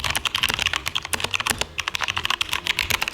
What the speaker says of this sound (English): here's my modified K2